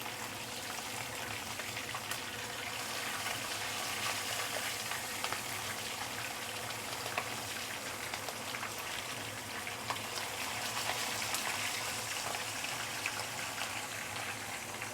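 Fish deep frying in hot oil gives off a loud, steady, dense sizzle and crackle, unbroken for the whole stretch with no talk.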